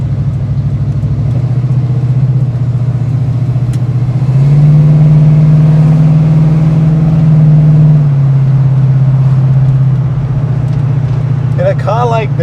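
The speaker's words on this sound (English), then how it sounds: "engine alone is just perfection. That's the sound that you enjoy, right?" A 1974 AMC Javelin AMX with its 401 engine idles with a deep, loud burble, rises into a stronger rev in the middle, then settles back to a rumbling idle.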